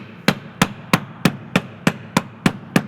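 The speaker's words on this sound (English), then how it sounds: "I'm just going to hammer." A metal bangle is struck with a hammer in ten sharp, evenly spaced blows, close and ringing, at a steady rhythm with no talking.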